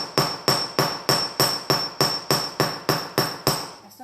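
Hammer blows on metal stock resting on a steel bench block, ten sharp, evenly spaced ringing strikes about every half second, loud and close with a bright metallic ring decaying between hits.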